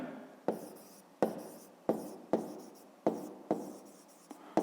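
A pen writes by hand on paper while working a fifth-grade maths exercise, with close, quiet strokes coming in a regular rhythm of about seven distinct scratching bursts, each starting sharply and fading.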